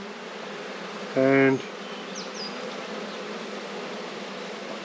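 Honeybees buzzing around an open frame from a rescue hive, a steady drone throughout with one bee passing close and loud for a moment, a voice speaking briefly.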